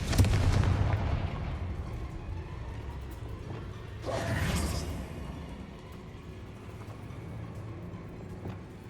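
Confringo spell explosion in the video game Hogwarts Legacy, a booming blast with a rushing whoosh midway through, set against a continuous low rumble of game ambience.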